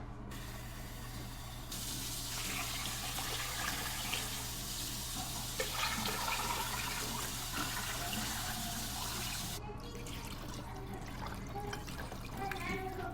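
Water runs and splashes steadily into a pot, a broad hissing rush with some clinking, over a low hum, with a voice speaking occasionally.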